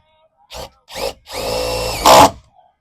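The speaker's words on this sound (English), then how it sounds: "I'm gonna get my drill and tighten those down." A handheld power drill driving screws down into a camper mount on an all-terrain pop-up truck camper: two short trigger pulses, then a longer whirring run that bogs and rises sharply as the screw seats, loud and close.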